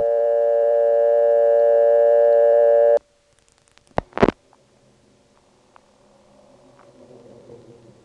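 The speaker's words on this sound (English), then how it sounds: "we'll hear the callback circuit's reorder on top of the recording" A telephone exchange tone from a 1977 step-by-step office in Belhaven, North Carolina: a loud steady multi-tone hum that stops abruptly, followed by a few clicks, a short burst and faint line noise.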